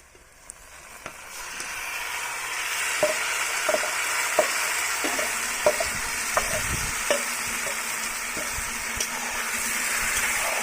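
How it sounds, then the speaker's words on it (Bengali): Mutton pieces go into fried onions in a hot pan, raising a steady loud sizzle punctuated by repeated light clicks and taps of the spatula at an irregular rhythm, without speech. "এবার আমি মাংসটা আস্তে আস্তে দিয়ে দেবো।"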